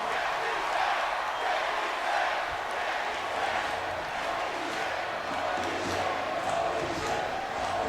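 A dense arena crowd in the WWE 2K24 video game chanting and roaring continuously at moderate distance, a rhythmic swelling wall of voices with no commentary over it.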